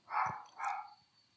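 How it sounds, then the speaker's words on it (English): A dog barks twice in another room, two muffled, moderately loud barks a short moment apart. "My dog is being a jerk in there."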